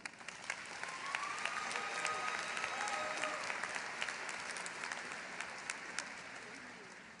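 An audience at a university commencement ceremony applauds in a sustained, even roar of clapping from a large crowd, with occasional sharper individual claps and faint voices mixed in.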